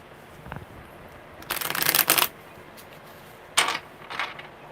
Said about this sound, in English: Alright, one more good shuffle.